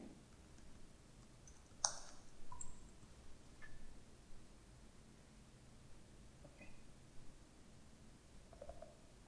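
A computer mouse clicks sparsely in accounting software on a quiet desk, a few sharp isolated clicks spread over several seconds with faint rustling in between and no speech.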